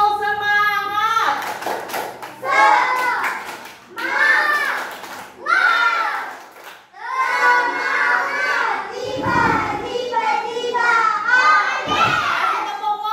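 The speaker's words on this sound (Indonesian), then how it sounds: "Tepuk tangan buat kelompok Balkisnya dan Dera dan Umam" Young children in a classroom clap their hands for a group of classmates in several loud rhythmic bursts of spirited claps, with children's voices and a teacher talking between the rounds.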